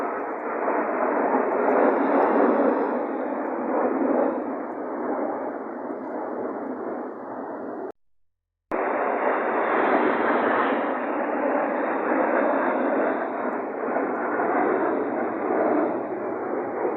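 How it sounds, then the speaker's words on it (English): Russian military planes flying over St. Petersburg toward Palace Square, a loud, broad, continuous roar of jet engines sustained overhead, briefly cut off by a short gap of silence midway before resuming just as strong. "those are famous Russian military planes heading to the center of St. Petersburg to fly over the Dvortsovaya Square"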